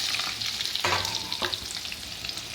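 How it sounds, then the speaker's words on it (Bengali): Potatoes frying in hot oil with bay leaf, dried red chilli and whole garam masala, a close steady sizzle broken by a couple of sharp spatula scrapes, no speech. "দিয়ে আলুগুলো এবার একটু ভেজে নেব ভালো করে।"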